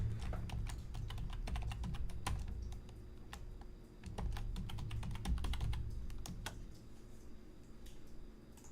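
Rapid, irregular keystrokes on a computer keyboard typing in an author's name, fairly close and steady throughout, with brief pauses between bursts over a low background hum.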